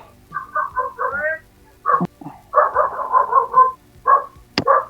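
A dog barks in several short bursts and clusters, close and loud, with brief pauses between volleys.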